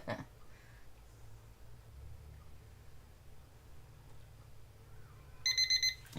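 A timer alarm beeps near the end in a quick run of four sharp electronic tones, after a stretch of quiet room hum.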